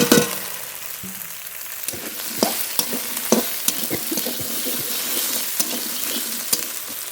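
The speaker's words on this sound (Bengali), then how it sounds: "এবার ভেন্ডি ধুয়ে কেটে রাখা ভেন্ডি দিয়ে দেবো" Cut okra hits hot oil with cumin and green chili paste, sizzling and frying steadily while a utensil stirs it with irregular clinks and scrapes, close and continuous without speech.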